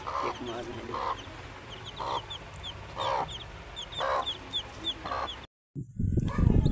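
A hen with three newly hatched chicks clucks in short, repeated bursts about once a second, while the chicks peep faintly and high-pitched around her. A brief silence follows, then a louder rustling noise close by.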